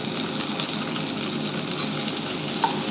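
Tomato and onion are sautéed for fish korma, a soft, steady frying hiss with faint stirring, continuous and close, with no talking.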